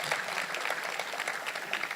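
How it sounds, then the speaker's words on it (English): A crowd claps steadily and fairly loudly, a dense continuous patter of many hands. "A big applause to this young lady,"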